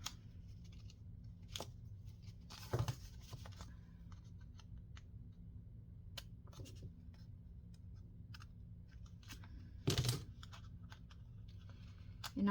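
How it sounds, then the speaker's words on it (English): Scissors snip off a paper corner for a skinny autumn-coloured junk journal: a few crisp, close cuts and small paper rustles in a quiet room, with no talking. "Cut that little corner out right there."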